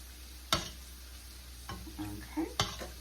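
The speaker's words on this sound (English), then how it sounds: "Give that a stir" Chili with chili powder cooking over medium heat gets stirred in a pot, with a quiet simmering sizzle broken by a few sharp spoon knocks against the pot and soft scraping stirs.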